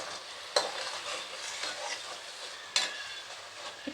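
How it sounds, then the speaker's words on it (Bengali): Crushed garlic and spices frying in a pan while being stirred, giving a steady close sizzle with two sharp spatula scrapes and light clicks throughout. "ভালো করে নাড়াচাড়া করছি"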